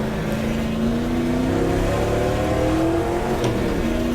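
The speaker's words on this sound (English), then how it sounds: "You hear this Ferrari in front." A 1960s Ferrari race car roars at Daytona in the GTR2 racing game, with a steady, loud engine tone whose pitch climbs as it accelerates, and another car's engine is also audible.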